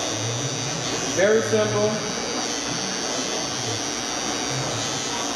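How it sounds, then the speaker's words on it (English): An electric hair clipper hums steadily and close by during a low taper fade haircut, a constant buzz that runs under a short spoken phrase. "slightly twist the clipper, and then connect it to you"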